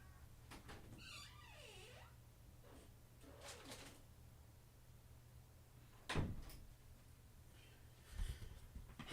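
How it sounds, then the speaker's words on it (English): A cat meows indoors in a room, with a couple of rising and falling meows early on and a few thumps and rustles later, no talking. "a kitty cat."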